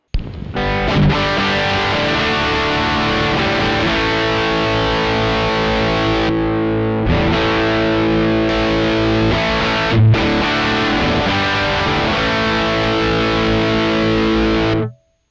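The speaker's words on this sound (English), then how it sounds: "Now let's take a look at the high gain distortion." High-gain distortion from a Joyo California Sound guitar pedal, dense saturated electric guitar riffing with sustained chords and palm-muted chugs, loud and continuous for about fifteen seconds with no talking.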